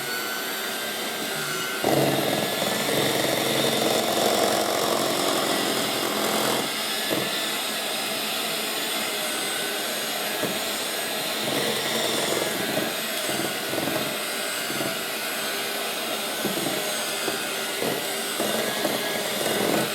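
An electric hand mixer runs its beaters through mini bundt cupcake batter, a steady, loud motorized whir that continues for the whole stretch with slight changes in pitch and load as the beaters move.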